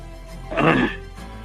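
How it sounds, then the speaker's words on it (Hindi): A man clears his throat once, with a short, rough vocal rasp lasting under a second, heard close up against a quiet studio background. "अभी गला साफ कर रहे हो मतलब?"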